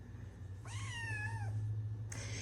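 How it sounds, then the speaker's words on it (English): A cat gives one clear, drawn-out meow that rises and then slowly falls, heard up close over a steady low hum, with a brief bright sound just after. "This is my cat niece."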